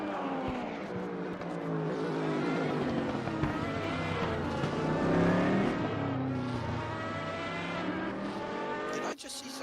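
GT3 race car engine in the racing game RaceRoom, droning steadily and loudly with shifting harmonic pitch as it races alongside other cars through a multi-class endurance event.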